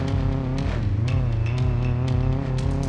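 An Audi engine drones steadily as the car drives fast through mud at about 30 mph on a flooded course, a continuous loud, even roar with no speech.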